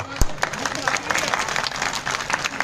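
A crowd claps briefly at a political address, short bursts of hand claps mixed with chatter and a loud, close speaking voice over the top.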